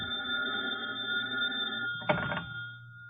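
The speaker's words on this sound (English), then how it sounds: "I was in bed in my hotel when the phone rang." A telephone bell rings steadily and fairly close in a quiet room as a radio drama sound effect, with a short clatter near the end as the receiver is picked up.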